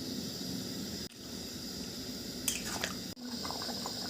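Water is poured into a pan of browned mutton curry, making a wet sizzling squish and liquid gurgle at close range, with faint splashy bursts.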